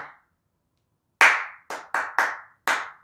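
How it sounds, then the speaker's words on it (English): Hand clapping in a rhythm during a music lesson: five or six sharp, close claps in a short pattern after a single early clap, with no talking. "then clapping only"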